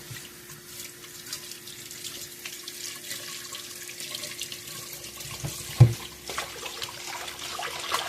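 Hot water runs from a tap in a steady, close splashing stream with low background hum and a few louder knocks and splashes toward the end.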